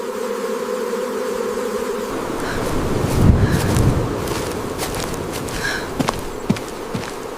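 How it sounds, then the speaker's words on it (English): Honey bees buzz around a hive entrance on an isolated farm, a droning hum joined by wind rustle and scattered bumps and taps, close to the microphone. "watching the bees' behavior at the hive entrance"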